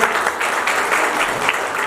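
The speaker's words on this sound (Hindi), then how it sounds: "लेडीज एंड जेंटलमैन, गीता जी के पिताश्री के लिए जोरदार तालियां हो जाए" Loud, dense applause fills a stage event as an audience claps for Geeta's father, a steady unbroken wash of clapping from start to end.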